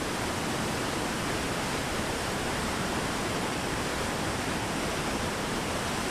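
Loud, constant roar of a spring-flooded waterfall in Southern Ontario pouring down, a broad unbroken wash of noise with no variation or voices.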